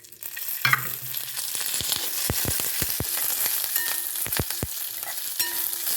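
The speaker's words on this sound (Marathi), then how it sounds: "छान याला रोस्ट करून घ्यायचं." Curry leaves roasting in hot oil in a pan, a bright, crackling sizzle with a burst of spitting near the start and repeated sharp pops throughout, close and steady.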